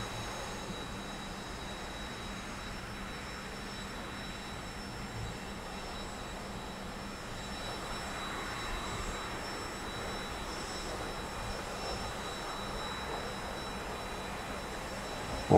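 Steady jet engine drone of a T-45 trainer in the DCS flight simulator, a continuous broadband roar with a faint high whine, swelling slightly in the second half as throttle changes.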